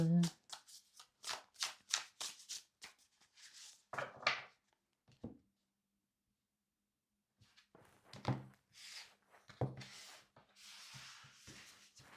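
Tarot cards are shuffled and drawn by hand in bursts of quick riffling and soft slaps, close and quiet, separated by a short pause, with someone speaking French softly in between.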